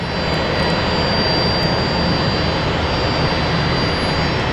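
An airliner lands on runway 19 right at Brisbane International Airport in the morning, its jet engines producing a steady, loud, broadband roar that holds constant throughout with no voices over it.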